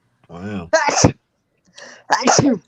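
Two human sneezes about a second apart, each a sharp explosive burst preceded by a short inhaling windup, close and loud, with a brief word spoken between them.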